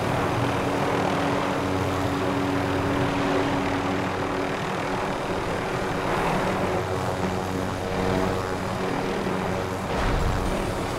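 Helicopter flying in Call of Duty Warzone near an airport tower, a steady loud rotor and engine drone with a low rumbling hum that continues throughout without talk.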